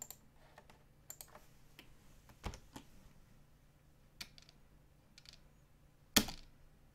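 Quiet, sparse typing on a computer keyboard: scattered single key clicks at an unhurried pace, with one sharper, louder keystroke near the end.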